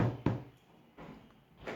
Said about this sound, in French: Je tape sur la porte, il est ouvert.